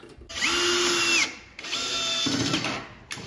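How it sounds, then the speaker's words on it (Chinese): Power drill driving screws into a wall bracket for a 100-inch motorized projection screen, two loud sustained whirring bursts of about a second each, close by, with no voices. "整个架子要打8条螺丝。"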